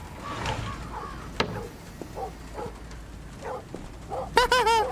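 A dog barks in a video game: a quick burst of several sharp barks close at the end, after scattered quieter sounds and low talking.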